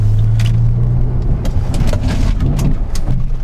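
Saab 9-3 Turbo X doing a brake test from about 30 mph, heard from inside the cabin as loud engine and road noise whose low hum drops away as the car slows.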